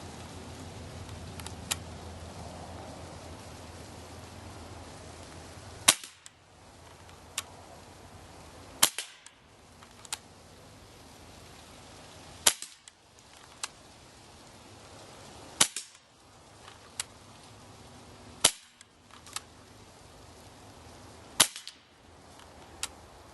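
Several sharp, snappy shots from a Beretta Elite II BB pistol pop one at a time at targets with pauses between, fairly quiet and close, over a faint background hiss.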